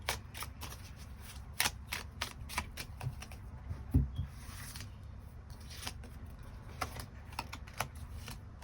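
Tarot cards are shuffled by hand in a quiet room, with crisp riffling bursts and soft taps repeating at irregular intervals. One thump comes midway.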